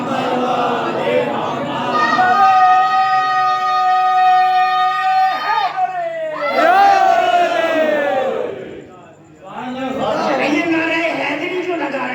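A crowd at a Shia majlis chants the Nara-e-Haidari slogan, loud massed voices rising in long sustained calls, breaking off, then surging again in repeated bursts.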